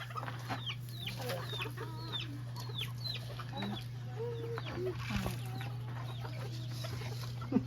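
Several chickens cluck and chatter continuously at moderate distance over a steady low mechanical hum, on an organic coffee farm in Costa Rica.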